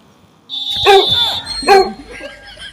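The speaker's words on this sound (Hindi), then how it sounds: "आराम आराम चल, न कुत्ता चबाई ले पीछे है।" A dog gives two sharp barks about a second apart over a steady high electronic whine, near and fairly loud, with faint background noise after.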